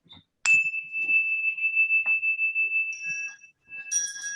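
A small sacred bell rings with a bright strike and a clear tone that lingers and pulses softly, then a second lighter ring is heard near the end in a quiet room.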